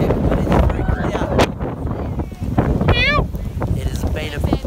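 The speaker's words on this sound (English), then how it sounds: "It's windy as heck, but it is very clear." Wind roars and buffets the microphone at the top of a snowboarding slope at Front Valley, loud and continuous, with voices and a brief high squeal over it.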